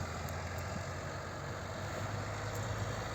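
A New Holland 7070 tractor engine idles with a low, steady rumble and constant hum, fairly quiet and unchanging throughout.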